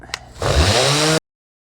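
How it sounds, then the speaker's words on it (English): A power sander with 80-grit paper starts up abruptly on a shower pan and whirs loudly for under a second before cutting off, followed by silence. "here we go on the sanding. Starting off with 80 grit"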